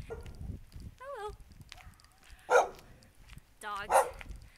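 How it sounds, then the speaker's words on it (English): Dogs bark a few times on a forest path walk, a couple of sharp loud barks standing out among yips and whines at a moderate distance, with a person's voice briefly heard. "Dogs."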